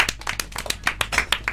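A handful of people in a studio clap briefly, a quick uneven patter of close hand claps lasting under two seconds.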